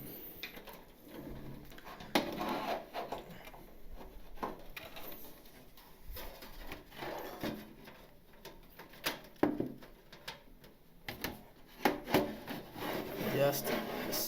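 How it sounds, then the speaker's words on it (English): A power supply is slid into a budget used gaming PC case and fastened with screws, making scraping rubs, metal knocks and small clicks close by, with talk running over much of it. "So now we're going to install our power supply."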